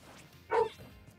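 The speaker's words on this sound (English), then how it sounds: "My dogs are barking" A dog gives a single short bark at moderate distance, brief and fairly quiet, in an otherwise calm indoor room.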